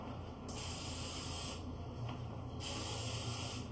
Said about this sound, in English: Let's actually spray them and then put this in.